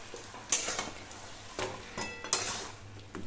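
A spoon scrapes and clinks against a pan as spice powder is stirred into a fish-bone curry, giving a few irregular metallic knocks over a soft cooking hiss.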